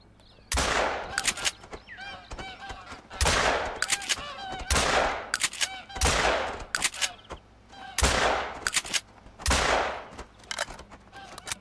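Hunting-game shots at geese in theHunter Call of the Wild: a series of loud, roughly evenly spaced gunshot blasts with honking goose calls between them, close and forceful, no talk.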